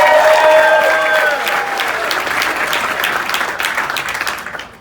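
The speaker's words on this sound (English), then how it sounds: "One more big round of applause for Dave Bush." Loud applause from the audience at a field Hall of Fame induction, full clapping with a brief whoop or whistle early on, gradually thinning and fading out at the end.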